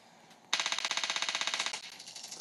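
Rapid automatic gunfire from a weapon in the shooter game Trigger Fist, a steady burst of about twenty evenly spaced shots lasting over a second, then a quieter tail of shots, loud and close with no talk.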